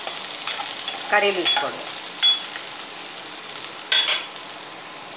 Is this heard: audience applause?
no